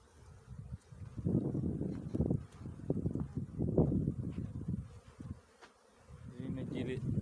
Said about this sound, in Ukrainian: Бджілки сьогодні літають дуже прекрасно.